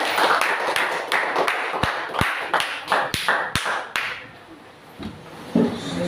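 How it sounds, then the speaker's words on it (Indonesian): A classroom group claps for classmates: a series of sharp, distinct claps in an uneven rhythm that thins out over several seconds, close and moderately loud, fading toward the end. "kita kasih tepuk tangan dulu untuk teman kita"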